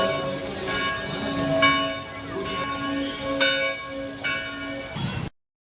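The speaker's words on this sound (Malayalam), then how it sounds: "അവിടുന്ന് ഞങ്ങൾ നടന്ന് പള്ളീൻ്റെ മുന്നിലെത്തിയപ്പോൾ മണിയടി ശബ്ദമാണ് കേട്ടത്." A church bell rings repeatedly outside the Mahe basilica during its festival, with metallic strikes clanging at a steady rhythm over a bustling crowd background, clear and moderately loud before it cuts off abruptly.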